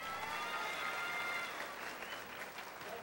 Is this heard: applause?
yes